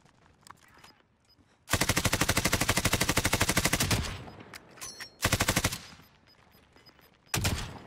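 Automatic gunfire in the video game Call of Duty: Warzone: a long, loud, rapid burst lasting several seconds, then two shorter bursts separated by quieter gaps of game sounds, close and dominant.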